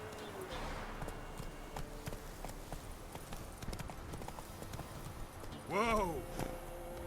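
Horse Roach gallops in Witcher 3 with steady hoof clip-clop under a continuous game soundscape, and a whinny-like rising call stands out near the end.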